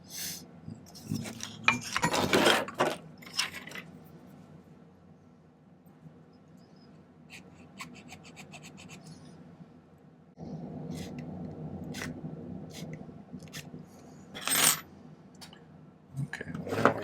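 Hand tools work a silver ring: scraping metal file strokes, a few sharp snips and clinks, and light handling rustle. The sounds come in irregular bursts, close and fairly quiet, with a low steady background hum in the second half.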